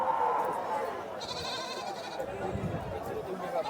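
Native goats bleat at a livestock market in Lonand, several wavering cries over a dense background of crowd chatter and voices.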